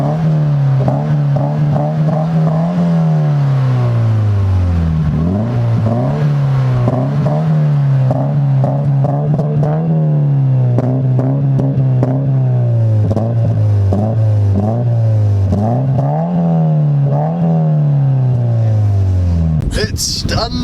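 A modified Ford Fiesta ST with a 2-litre engine and 450 at the wheels revs repeatedly as it accelerates through gears on a drive, with rising and falling pitch sweeps and a loud burst near the end.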